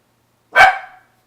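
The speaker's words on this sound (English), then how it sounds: "I hope that's my dog. He is saying hi." A single loud, close dog bark, sharp at the start and trailing off quickly, alone against silence.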